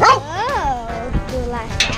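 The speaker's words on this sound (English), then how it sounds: "Now we're gonna go let the dogs out." Dogs let out into a backyard bark and yip in a few quick, close bursts, a high whimpering yelp rising near the start, with excited voices mixed in.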